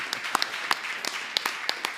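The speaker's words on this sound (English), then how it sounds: "So that was the applause." Scattered applause from a small audience at a music festival artist press conference, a few sparse claps spread over a couple of seconds with no talking.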